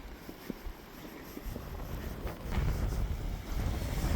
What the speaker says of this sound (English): and then it gets windy